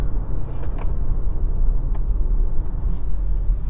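A car accelerates hard during a 0 to 60 run with traction control on, its engine a steady, close rumble sustained for several seconds without any talk.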